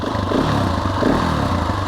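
A Gasgas SM 700 supermoto motorcycle engine runs nearby, a loud, throbbing mid-pitched rumble with clattery texture and slight surges, filling the short stretch without any talking.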